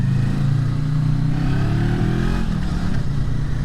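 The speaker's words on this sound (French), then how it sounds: "ça reste un moteur quand même très souple, ce twin vertical calé à 180 degrés" A vertical-twin motorcycle engine with a 180-degree crank pulls steadily at low revs, its deep, even throb loud and close throughout with a slight rise in pitch, and no voices.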